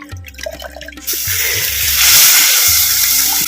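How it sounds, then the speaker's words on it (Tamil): Tamarind water, made from a gooseberry-sized ball of tamarind dissolved in a quarter litre of water, is poured into fried masala for a veg ayirai fish curry. A few soft kitchen knocks come first, then a loud, steady watery rush that lasts to the end. "கால் லிட்டர் தண்ணியில் நெல்லிக்காய் சைஸு புளியம்பழத்தை கரைச்சி இப்போ நம்ம சேர்த்துக்குவோம்"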